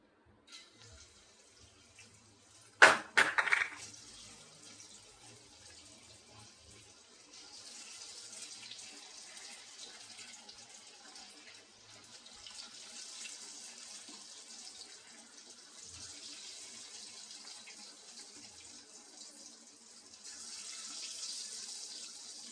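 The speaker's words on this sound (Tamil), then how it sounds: "எண்ணெய் காஞ்சிச்சு இப்போ இந்த க்ரீன் கவாப்பு போட போகிறோம்" Green chicken kebab pieces drop into hot oil in a kadai on a stove and deep-fry. A brief clatter is followed by a faint, steady sizzling hiss, with no talking.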